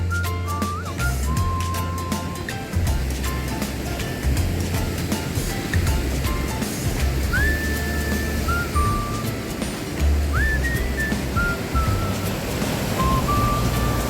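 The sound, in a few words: strong waves crashing on Kasheli beach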